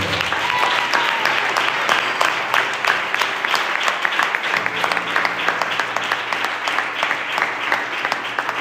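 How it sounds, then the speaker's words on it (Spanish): Sustained applause from a church congregation, dense steady clapping filling the space throughout with a low murmur beneath, fairly loud and even from start to finish. "Da un aplauso al Señor"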